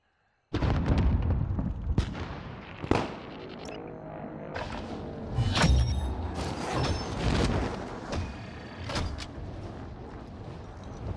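Grenade explosions in a first-person shooter video game, several sharp bangs spread through a noisy battle with creaks and mechanical clatter, loud and close after a silent start.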